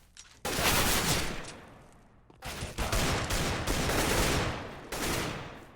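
Bursts of rapid gunfire from a competitive shooter video game crack out in several loud volleys with brief gaps between them, sharp and close, with no talking.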